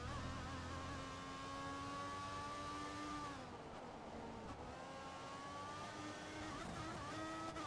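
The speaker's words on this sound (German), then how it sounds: "Der Ferrari hört sich scheiße an, der Honda hört sich geil an." Ferrari and Honda Formula One race car engines in the video game F1 2014: high-pitched whining engines held steady, a drop in pitch as one backs off, then climbing again, continuous and fairly close with no voices.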